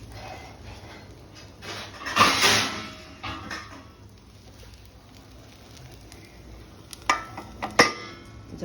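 A metal lid clanks onto a pan of ragi uttapam over high heat with a brief close clatter, followed later by a couple of lighter clinks over a faint cooking hiss.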